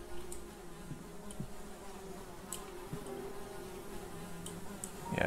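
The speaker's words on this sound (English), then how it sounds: "Yeah, it's just a bunch of flies." A swarm of flies in the video game Hellseed, a low continuous droning buzz at moderate distance with faint clicks and ticks scattered through it.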